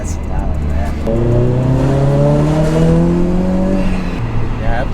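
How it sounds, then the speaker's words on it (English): Subaru BRZ fitted with an HKS GT2 supercharger accelerating hard, its engine note climbing steadily through the revs for about three seconds before easing off, loud and close. "Yeah, the supercharger is pretty loud."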